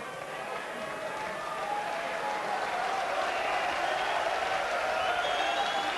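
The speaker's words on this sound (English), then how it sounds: "this knowledgeable crowd in Blackpool appreciating a great shot from Ekonomopoulos" A knowledgeable crowd in Blackpool at the 2014 Mosconi Cup pool event breaks into sustained applause for a great shot, the clapping building and holding steady as a dense, roomy wash of hands.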